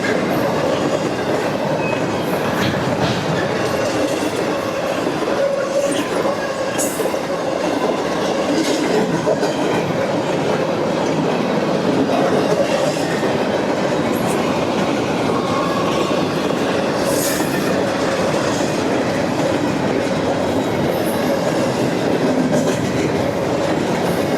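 A CSX train passes near Slaughters, Kentucky, rolling by with a steady rumble of railcars, rhythmic clickety-clack from the wheels and faint occasional squeals, heard continuously at close to moderate distance.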